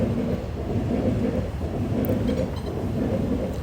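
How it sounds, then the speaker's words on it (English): An Elizabeth line train heading into a tunnel at Stratford, London gives off a steady, muffled low rumble that stays constant throughout, heard from a distance without voices. "Going in a tunnel with the Elizabeth line."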